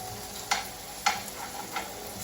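Potatoes fry in a pan with a soft, steady hiss, punctuated by two crisp clicks of a utensil on the pan and a fainter third, heard close up.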